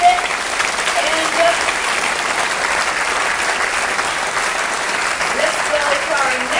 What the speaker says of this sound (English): A big applause to Mr.